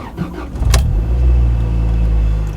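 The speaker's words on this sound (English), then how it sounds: "Starts up pretty good, seems pretty smooth" A Honda B20 VTEC engine cranks briefly, catches and settles into a loud, steady idle that runs smoothly to the end, with no talking.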